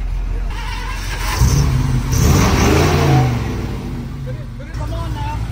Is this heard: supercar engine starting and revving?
yes